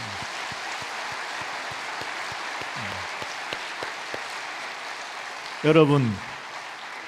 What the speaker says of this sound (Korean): 자, 하나님께 영광의 박수 한번 하겠습니다.